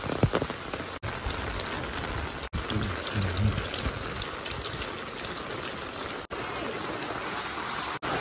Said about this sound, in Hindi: वर्षा केनता होचे देखो पूरा प्रबल वर्षा होचे भाई पूरा खतरनाक वर्षा होचे